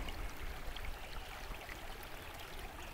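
Cold water of Horse Creek flowing steadily over rocks, a close, continuous bubbling rush with no voices.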